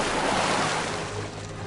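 A broad rushing wash of water, like a splash and surf as people jump into water, steady and fairly loud throughout before easing slightly toward the end.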